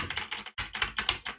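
Rapid typing on a mechanical computer keyboard, a quick run of crisp clacking keystrokes close up, with a brief pause partway through and no voices.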